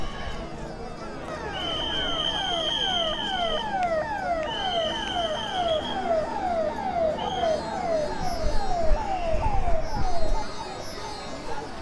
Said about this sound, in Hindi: और एक फायर की गाड़ी।